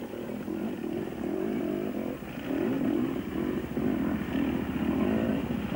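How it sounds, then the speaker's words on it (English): A KTM motorcycle engine droning and revving at an off-road race, a steady buzzing roar that swells louder midway as the bike passes at moderate distance. "he took his KTM out"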